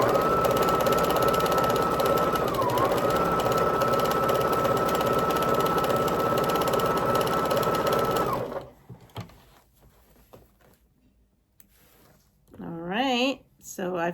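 A sewing machine stitches a heart-and-cross valentine quilt block in one long, steady, close run, then stops, leaving quiet handling sounds and a brief voice at the end.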